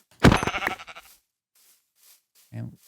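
Sheep in Minecraft with the All The Mods 8 modpack gives a loud, wavering bleat up close, followed by a shorter, quieter bleat a couple of seconds later, with faint sounds between.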